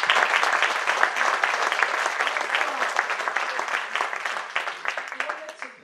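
Sustained audience applause fills an evening awards gala hall in the canton, a dense steady clatter of many hands that gradually thins toward the end.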